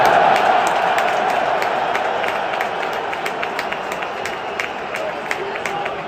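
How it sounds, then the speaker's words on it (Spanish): Stadium crowd at the Allianz Arena giving a sustained ovation to departing RB Leipzig players: dense, steady roar of applause and cheering with scattered claps, loud and continuous throughout. "le metieron una ovación atronadora todos los fans que estaban en el Allianz Arena"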